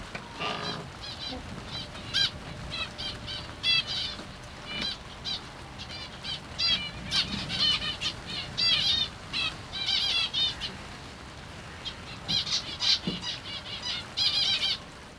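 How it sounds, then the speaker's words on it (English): A flurry of wingbeats as many finches and quails take off together from a garden enclosure, rapid flapping bursts repeating over a steady background with occasional squawks. "as soon as I opened the door, they all flew out"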